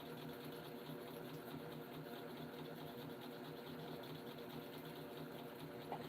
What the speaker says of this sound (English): I'm just making bobbins